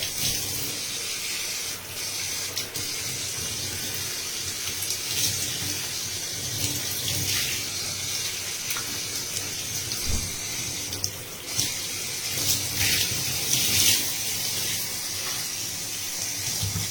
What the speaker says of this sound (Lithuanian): nusiskalausiu, vėl karaliauja drungnas šiltas vanduo